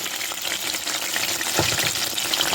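Peas fry in a pan of hot oil while samosas are being made, giving a steady, close sizzle and crackle with a brief stirring clatter partway through.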